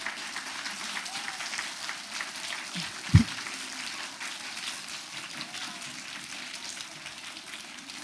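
An audience at a primary school applauding Mr. Hines, a soft, even patter of clapping from a modest crowd heard from a distance, with one sharp thump partway through.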